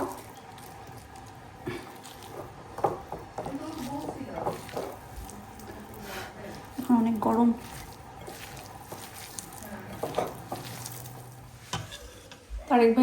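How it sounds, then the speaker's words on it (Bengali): Boiled potatoes are mashed by hand for Bengali aloo bhorta, giving soft, irregular squishing and pressing sounds at close range, with occasional voices in the background. "লাস্টে জাস্ট শুধু আলুটা ভর্তা করব"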